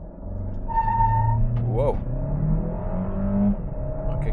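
An MG HS 1.5 petrol SUV with a 170 hp engine and seven-speed dual-clutch gearbox accelerates hard at full throttle at night, engine drone rising and rumbling steadily under a driver's exclamation and talk.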